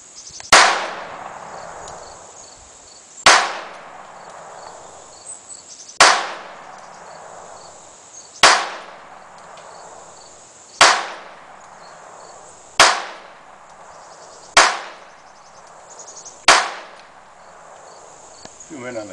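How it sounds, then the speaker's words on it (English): A Ruger LCR .22 revolver fires Federal ammunition: eight sharp, loud reports, each spaced a few seconds apart, with a quick decaying ring after every shot. "This is the very first shots through it with the cheapest ammo, Federal 550."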